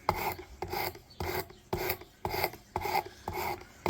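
Knife blade, a folding M&P Extreme Ops karambit, being sharpened on a Work Sharp precision sharpener: about seven rhythmic rasping strokes, close and clear, with short pauses between them and no talk.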